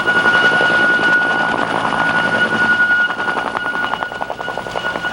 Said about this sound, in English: The Marine Corps deployed over 100 Bell helicopters to the Gulf